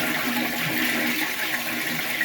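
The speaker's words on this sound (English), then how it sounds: "I'm also going to flush this toilet." A toilet flushes during plumbing work on old water shutoffs, a steady close rush of draining water that runs unbroken for a couple of seconds with no talking.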